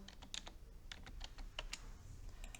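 Quiet, rapid typing on a computer keyboard, a close run of light clicky keystrokes in uneven bursts with no talking.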